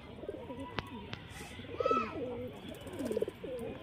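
Desi pigeons coo at a Khidirpur loft in a few soft, throaty bursts over a steady low background hum, with faint chirps in between.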